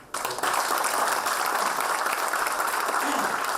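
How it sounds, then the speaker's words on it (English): Applause at an inaugural session of a college orientation programme in Bangalore, a broad wash of clapping from a large audience that starts abruptly and holds steady and loud throughout. "he really deserves a big clap"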